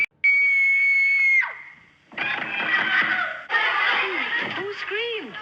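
A woman's long, loud, high scream opens the scene in a BBC horror series, followed by overlapping agitated voices and shouting.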